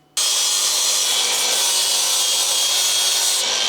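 Metal on a Saab 900 Turbo drive shaft tunnel being cleaned up with a power tool: a loud, continuous abrasive grinding rasp, close and steady for several seconds, with no talking.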